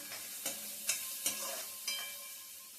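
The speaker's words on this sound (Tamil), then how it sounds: "ஆனியன் நல்லா வதங்கிருச்சு" Onion sautéing in a pan, with a steady sizzle broken by about five sharp spatula scrapes and taps at a fairly even rhythm, close and clear.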